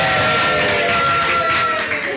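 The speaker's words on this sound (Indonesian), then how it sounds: "Wah kencang ini tepuk tangannya" Studio audience applause greeting a podcast guest, a dense steady wash of clapping and crowd noise filling the room, loud and sustained, with a faint tonal hum running underneath.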